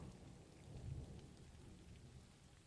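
Rain falls steadily outside as a soft, continuous hiss with a low rumble of thunder, faint and distant throughout with no voices.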